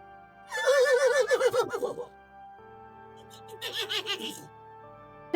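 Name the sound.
horse neighing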